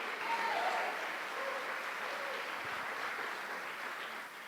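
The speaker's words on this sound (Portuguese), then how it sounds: "dê um aplauso a esse Deus maravilhoso" A church congregation applauds in a steady, fairly faint wash of clapping heard from a distance, holding evenly before tapering slightly at the end.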